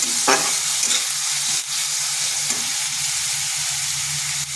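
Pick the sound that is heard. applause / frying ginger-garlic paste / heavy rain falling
frying ginger-garlic paste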